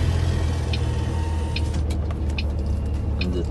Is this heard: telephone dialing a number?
no